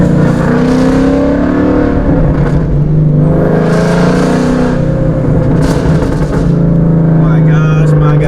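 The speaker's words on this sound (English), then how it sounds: "Those pops and this exhaust just never gets old." A car engine with an X-pipe and muffler-delete exhaust revs hard, droning and rising with crackling pops, loud and close, while someone talks over it.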